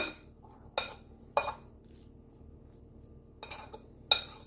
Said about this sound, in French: Donc hop, on mélange.